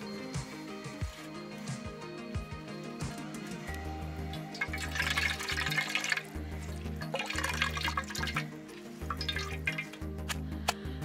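Almond water poured from above through a fine cloth stretched over a cooking pot, a steady trickling and splashing of liquid with periodic low rumbling bursts, close and fairly loud, no talk.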